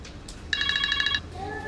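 A telephone rings with a short, rapid electronic trill lasting about half a second, fairly near but not loud, in a quiet indoor room with faint background hum and no talking.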